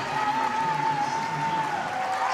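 A crowd at a Chelsea v Everton women's football match cheers as substitute Sam Kerr comes on, making a steady, broad roar that lasts throughout.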